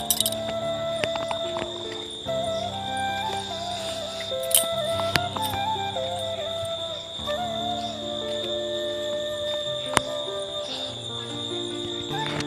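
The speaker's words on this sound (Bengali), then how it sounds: "দেখো এখানে ঝিঝি পোকার আওয়াজ হচ্ছে দিনের বেলাতেই" Insects chirp steadily in the late afternoon just before dusk, a dense layered chorus of continuous high trills and tones with no talking.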